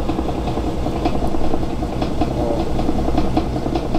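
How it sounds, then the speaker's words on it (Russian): A small electric motor drives a homemade honey extractor, giving a steady, loud hum with faint rhythmic rattling that runs without pause and without talk. "Тут помощнее моторчик стоит."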